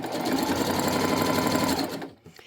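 A sewing machine top-stitches a tote bag in a steady, fast whirring run for about two seconds, close and loud, then stops abruptly, leaving a few small clicks.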